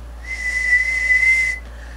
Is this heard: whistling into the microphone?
yes